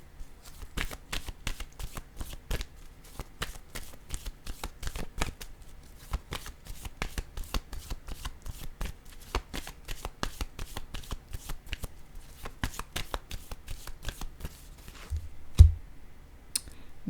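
Tarot cards riffled and shuffled by hand, a long run of quick crisp flicks at close range, steady and continuous, then a couple of sharper taps near the end, with no talking.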